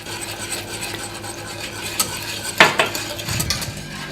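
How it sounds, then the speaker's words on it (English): Polenta is stirred in a pot with a utensil, a steady scraping and rubbing with a few sharper clinks against the pot, close and continuous with no talk. "Now you have to stir your polenta"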